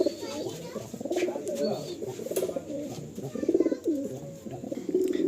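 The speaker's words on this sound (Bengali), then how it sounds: "এই যে প্রথম আমরা শখ করাচ্ছি পায়রাটা" Pigeons of an Ustad Tapan Saha bloodline cooing in a loft, repeated soft low coos rising and falling at close range, with someone talking over them.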